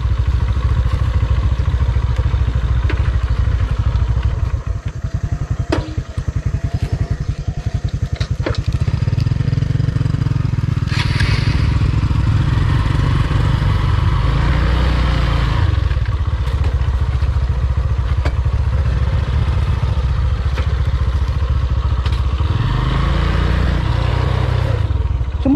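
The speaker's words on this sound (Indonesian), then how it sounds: "Yuk, pake motor." Honda Verza and Supra motorcycles climb a steep mountain road, engines droning loudly and continuously with revs rising and falling as they labour uphill, close and dominant throughout.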